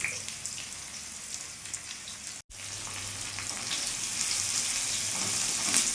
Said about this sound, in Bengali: তেল গরম হয়ে গেছে, এখন কেটে রাখা বেগুনগুলো আমি দিয়ে দেবো।